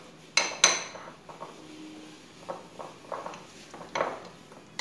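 A spoon clinks and scrapes against a dish as fish is mixed with ajwain, cumin powder and salt for a green masala fry. Two sharp clinks come first, then softer scattered taps, close by, with no talking.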